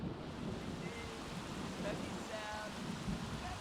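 Rain and hail falling on a beach in The Sims, a faint, steady broadband hiss of stormy weather with a few soft tonal blips over it.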